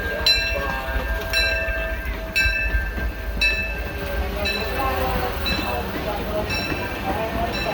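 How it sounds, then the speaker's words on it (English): Disneyland Railroad train pulled by the steam locomotive C.K. Holliday rolls into a station, a steady rumble with repeated rail clicks and a faint whistle-like tone, while a voice announcement plays over it. "The Disneyland Limited now arriving from a trip around Walt Disney's Magic Kingdom."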